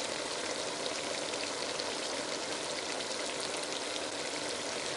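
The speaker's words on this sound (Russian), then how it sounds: "Наливаем часть воды" Water pouring steadily into a pot while Uzbek plov cooks, a continuous even rushing splash with no breaks and no voices.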